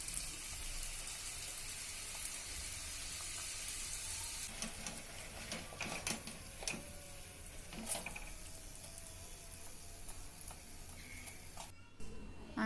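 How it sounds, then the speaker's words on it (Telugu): Sooji aloo patties fry in oil with a steady hissing sizzle, followed by quieter crackling and occasional utensil clinks and scrapes nearby. "అదేవిధంగా మిగిలిన ప్యాటీస్ అన్నిటినీ ఫ్రై చేసుకోవాలి."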